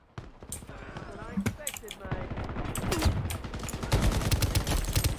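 Rapid automatic gunfire in the shooter video game Shatterline rattles almost continuously and grows denser toward the end, with players talking over it.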